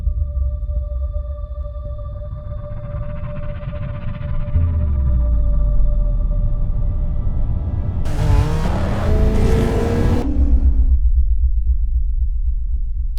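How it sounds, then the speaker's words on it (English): A low engine rumble builds into a roaring race car pass with a rising whine, then a broad noisy burst before the drone settles. "race car sound effects into this video"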